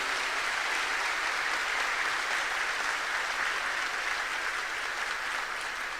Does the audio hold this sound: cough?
no